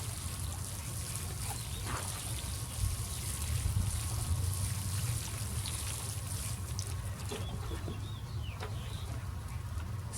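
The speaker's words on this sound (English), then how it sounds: "I have my watering can here, so I will do my thorough watering." A watering can pours a steady trickle onto container-planted lilies of the valley outdoors, a soft continuous splashing with chickens clucking and birds calling faintly in the background.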